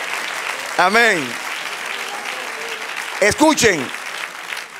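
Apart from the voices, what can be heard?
congregation applauding in church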